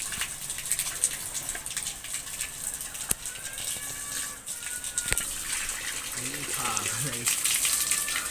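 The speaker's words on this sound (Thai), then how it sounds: "เบิ่งผู้เบาอาบน้ำครับนี่ผู้เบาเด้อครับ" Water is poured and splashed as someone bathes outdoors in a rural village, a continuous gushing wash with faint birds behind it and a person talking throughout.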